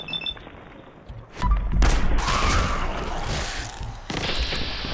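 Gunfire aimed at mole rats in Fallout 4, a sudden loud blast followed by a heavy rumbling, thudding tail and a second burst, set against game sound.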